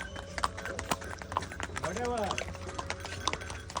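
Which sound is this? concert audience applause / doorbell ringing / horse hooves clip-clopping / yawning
horse hooves clip-clopping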